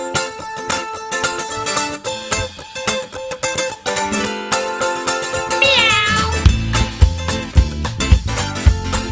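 Loud, drawn-out meow calls, probably a performer's voice imitating a cat, ring out over a dense live band at a comedy-music stage show, with sharp rhythmic hits in the final seconds.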